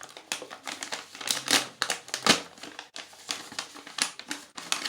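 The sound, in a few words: surprise animal toy pack being torn open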